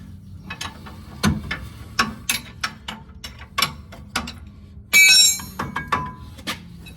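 Rapid bursts of ratchet clicking from a socket wrench working wheel bearing bolts on a Ford Super Duty, close up in irregular strokes with short pauses and a brief metallic clink.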